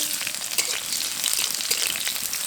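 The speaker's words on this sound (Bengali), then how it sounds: "এবার পেঁয়াজটাকে হালকা বাদামি করে ভেজে নেব।" Chopped onion frying in hot oil in a village kitchen pan, a steady close crackling sizzle with small pops, continuous and fairly loud with no talking.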